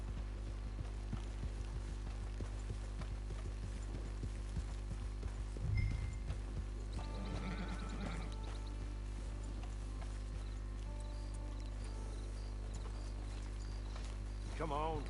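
Steady horse hoofbeats clip-clop along under a constant low drone in Red Dead Redemption 2, with some speech and a brief louder thump near the middle.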